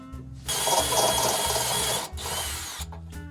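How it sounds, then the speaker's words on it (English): A power drill with a 7/16 inch step bit bores holes while a custom molded grey water tank is installed in a RAM Promaster van. Two close, loud whirring bursts are separated by a brief pause. "Switch to our step bit, to 7/16 inch step."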